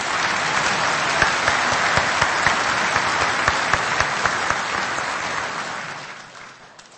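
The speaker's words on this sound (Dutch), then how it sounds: "Dus ik stel voor dat we ook Jan nog even een hartelijk applaus geven om hem te bedanken." An audience at a closing evening with the Urker Mannenkoor and Urker Voices claps warmly for Jan de Boer: dense, sustained applause that fades out at the end.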